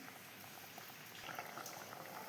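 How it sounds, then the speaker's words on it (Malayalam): Fish curry with ground coconut boiling in a pot, a faint, soft continuous bubbling simmer heard close with no talking. "അപ്പോൾ ഇത് തിളക്കുന്നുണ്ട്."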